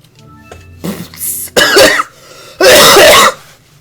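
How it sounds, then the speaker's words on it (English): A man coughing in a quick fit, a few small throat clears building into two harsh, loud bursts of coughing, close to the microphone with no other sound. "Now I'm getting cough attacks?"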